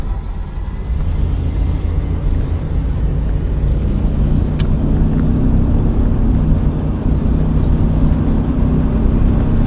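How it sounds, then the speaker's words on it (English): A 1975 Buick LeSabre cruises down the road, with a steady low engine and road rumble and tire roar heard from inside the car, loud and even, with one brief high click partway through. "Definitely a smooth ride. She's just gliding."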